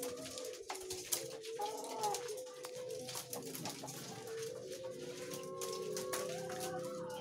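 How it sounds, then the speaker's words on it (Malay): Puter pelung doves coo in breeding cages, soft repeated coos overlapping from several birds at moderate distance over a steady background murmur. "biasa ini merupakan burung pam yang dibreeding, burung puter pelung yang dibreeding Mas Warsito."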